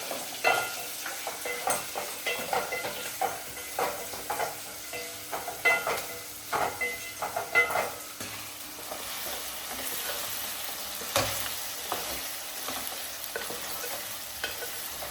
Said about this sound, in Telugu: వేసి కొంచెం గోల్డ్ కలర్ వచ్చిన దాకా వేయించాలి